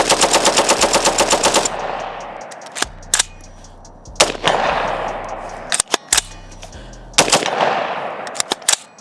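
A 7.62x39 AR rifle fitted with a three-position forced reset trigger fires rapid strings of shots outdoors, a long fast burst followed by several shorter volleys and single cracks, each trailing off in loud echoing reverberation.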